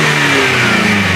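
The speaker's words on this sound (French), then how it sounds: "dès que je vais accélérer, on va partir. J'accélère, j'accélère." Renault R11 engine fitted with a Rapid F40 carburettor, revving loudly up close, its pitch climbing steadily through a brief acceleration.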